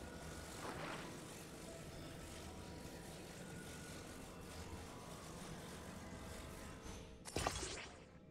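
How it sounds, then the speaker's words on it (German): A small fan-powered drone built from two fans and a steering element flies in Zelda: Tears of the Kingdom, giving a steady whirring propeller drone that holds evenly throughout, ending with a brief sharper burst near the close. "Für diese kleine Drohne braucht ihr lediglich 2 Ventilatoren und ein Lenkelement."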